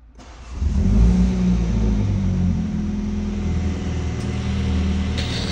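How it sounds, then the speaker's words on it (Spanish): A car engine fires up inside an enclosed garage, swelling quickly to a loud rev, then settling into a deep, steady idle whose exhaust rumble echoes off the walls, no voices. "la parte donde arranco el coche y se escucha el escape"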